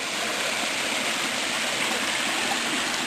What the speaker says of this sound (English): This is the little side stream coming down from that.